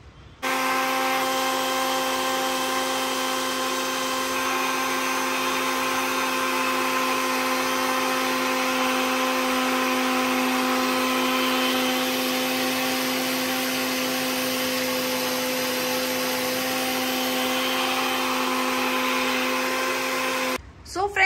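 A kitchen blender runs steadily, churning cream with cold water from the fridge into homemade butter, a loud continuous whirring drone that holds for about twenty seconds before cutting off at the end.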